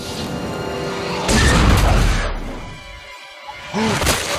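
A loud, dramatic explosion from the disaster movie Final Destination 2 erupts as a sudden broadband roar with a heavy low boom, then fades into rumbling debris before a second smaller burst near the end.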